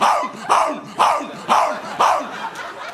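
A comedian on stage imitates a dog with his voice, letting out about five loud, evenly spaced barks, roughly one every half second.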